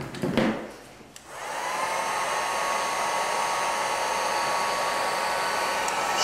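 A heat gun shrinks black heat-shrink tubing over a crimped cable joint: a click and brief rustle, then a loud, steady rushing blast of hot air that continues to the end.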